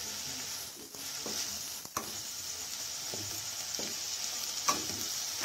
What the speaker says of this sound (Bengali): আমি সব মশলাগুলোকেই ভালোভাবে মিশিয়ে নিচ্ছি